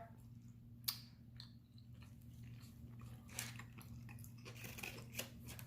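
A bite of a Cuban sandwich with glazed ham, pork, pickles and cheese is chewed close to the mic, soft crunches and moist clicks spread unevenly over a steady low hum, faint and without talk.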